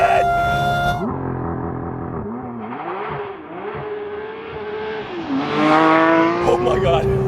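2024 Porsche 911 S/T with a 4-liter flat-six revving hard on launch control, a rising and falling howl that climbs to a loud high-pitched wail toward the end, with a voice talking over it.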